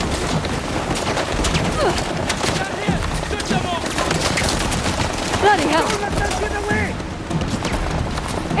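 Rapid bursts of automatic gunfire in Uncharted: The Lost Legacy, loud and sustained through the whole stretch with echoing booms, mixed under shouted character dialogue.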